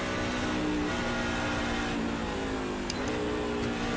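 NASCAR truck engine in the iRacing simulator, Class C series, climbing a hilly wine-country circuit: a steady, droning engine note holds throughout, shifting pitch slightly around the midpoint, with no talking over it.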